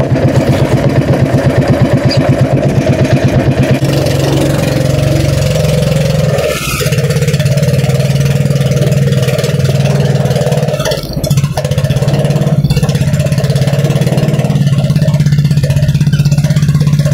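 An engine, likely a motorcycle, sputters through a rough, pulsing start and then settles into a steady, loud idle close by, with brief clanks and knocks partway through and no talk.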